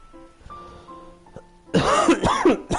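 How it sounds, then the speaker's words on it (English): A person coughs several times in a rough, close-up burst over quiet video game music and tones, the coughs arriving in a quick cluster near the end. "Sorry for the coughs."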